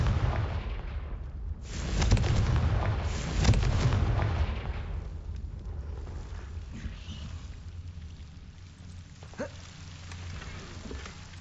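A Confringo fire spell in the video game Hogwarts Legacy, heard as heavy booming bursts near the start of the clip that fade into a lingering crackle and low game ambience, with a few faint clicks later on.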